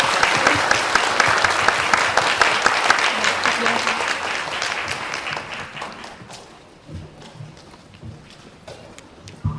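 Loud audience applause from a Korean cinema crowd at a post-screening talk event for the film 한국이 싫어서, dense and steady at first, then thinning out and fading over the last few seconds.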